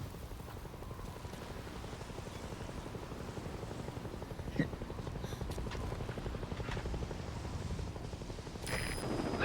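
The helicopter Morpho arrives in Metal Gear Solid Ground Zeroes, a steady rapid rotor thump with engine whine, moderately loud, with a brief sharp click midway and a slight swell near the end.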